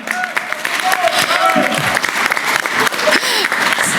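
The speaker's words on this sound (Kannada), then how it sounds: "ಬರ್ಲಿ ಜೋರ ಚಪ್ಪಾಳೆ" Audience applause rings out at a community association gathering, a dense steady clatter of many hands sustained for about four seconds, with voices and talk running over it.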